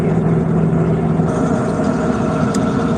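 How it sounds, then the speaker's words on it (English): A big-rig semi truck engine idles with a steady, loud low rumble and a constant mechanical hum, running a bit high and unchanging throughout, with no talking. "Seems like it's actually idling now. Now it's idling a bit high."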